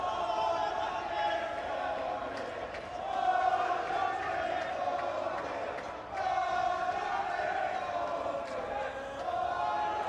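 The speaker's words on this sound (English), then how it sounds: "Sellout crowd already here in Milan, day one." A sellout crowd roars at the Kings World Cup Nations football match in Milan, sustained chanting and cheering swelling in waves, loud and continuous.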